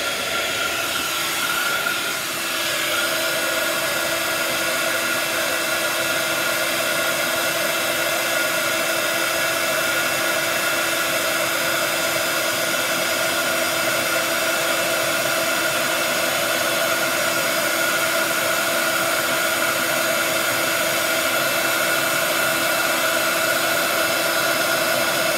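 A heat tool melting embossing powder on a card base, heating from underneath, a steady loud blowing whir like a hair dryer that runs unbroken for the whole stretch.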